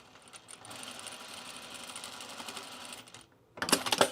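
Sewing machine stitching a notched-collar pajama top, a rapid, even mechanical whir running for about three seconds, then a short pause and a louder burst of clattering.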